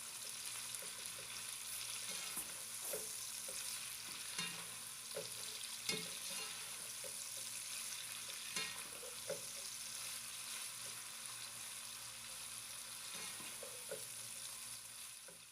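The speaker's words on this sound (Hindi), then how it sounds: "मीडियम फ्लेम पे हम प्याज को अच्छी तरह से फ्राई कर लेंगे।" Onions for Kabuli pulao frying over a medium flame give a quiet, steady sizzle, with occasional light stirring clicks and scrapes and no voices.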